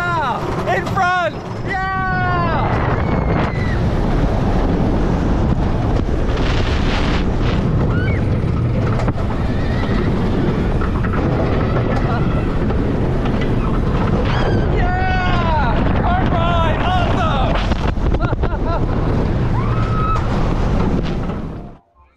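Riding the Twisted Colossus wooden-steel hybrid roller coaster at Six Flags Magic Mountain from the front seat: steady loud wind roar and rumbling track noise throughout, with riders screaming and yelling over it before the ride slows at the end.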